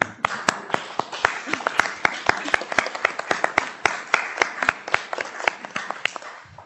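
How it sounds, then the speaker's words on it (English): An audience applauds a panel at a round table on children's choir conductors, with dense, continuous clapping from many hands, close and lively, and voices mixed in underneath. "Please do give them a big applause"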